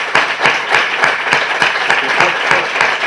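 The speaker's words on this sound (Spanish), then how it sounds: "Primero te vamos a dar un aplauso," Audience applause at a talk in Jaén on the French occupation and historical reenactment, a steady dense clapping from a room full of people, loud and close, with no speech over it.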